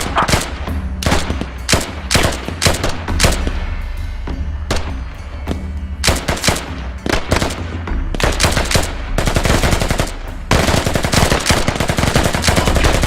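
Heavy gunfire from the video game Squad during a full-event operation, with a sustained barrage of loud, rapid overlapping shots and booming blasts filling the whole stretch, dense and continuous with brief lulls.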